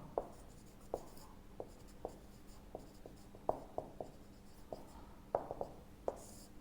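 Chalk or marker strokes on a board during a maths lesson on odd numbers, heard as a series of short, distinct taps and scratches at an irregular pace with no talking.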